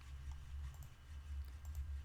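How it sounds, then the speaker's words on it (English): Sawing in a Nancy Drew video game, Treasure in the Royal Tower: a quiet repeated rasping back-and-forth stroke heard faintly over a low hum. "Aha! Sound of sawing."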